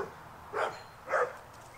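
Two sharp dog barks, evenly spaced and moderately close, over a quiet background.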